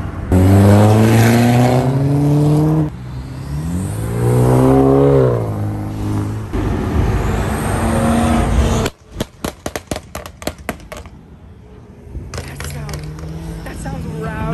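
A car engine revs hard at close range with rising and falling pitch in repeated pulls, then a rapid series of sharp popping bursts, with voices talking over it at a car graveyard.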